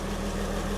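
Low-mileage Porsche 986 Boxster S barn find engine idling, a steady close rhythmic throb with a fine even pulse, heard alone for under a second.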